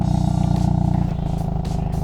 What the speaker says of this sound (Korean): 제가 왜 이 배기음을 들려드리는 거냐면은